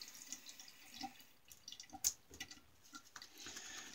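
Water dripping and splashing at a sink as a Cocobolo wood shaving brush with a synthetic knot is wetted, with a few close drips and a brief sharp splash midway.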